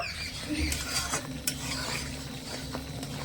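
Thick raw green mango pulp being stirred in a pan while it cooks down, giving a steady close scraping and stirring with soft bubbling sizzle and occasional utensil clinks, with no talk.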